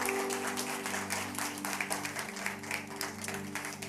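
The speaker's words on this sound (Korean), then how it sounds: "우리 큰 박수로 축하해 주십시오." A church congregation applauds at a Sunday service after a new member is received, with a soft, steady patter of clapping across the sanctuary over a sustained low hum.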